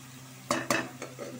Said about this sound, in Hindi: बाकी सारी चीज़ों को अच्छी तरह से हमने भून लेना है।